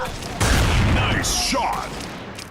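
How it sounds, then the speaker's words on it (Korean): A grenade detonates in a Counter-Strike 2 ranked match, a sharp close boom that rolls into a short decaying rumble, with a bit of talk in the mix. "수류탄 투척."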